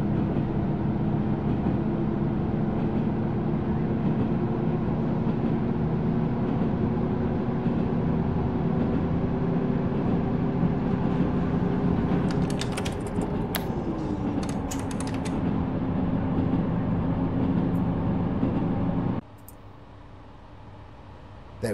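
Diesel railcar in a train simulator game, a steady droning engine hum with a low rumble that holds for most of the stretch, then drops abruptly quieter near the end.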